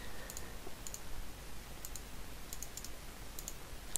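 Computer mouse clicking during Minecraft play, a scattered series of faint, sharp clicks in small clusters over a low steady hiss.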